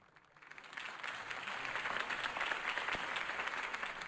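A crowd applauds after a campaign speech in the Batman Telltale Series video game, a dense, sustained wash of clapping that swells from quiet to full and holds steady, with no talk over it.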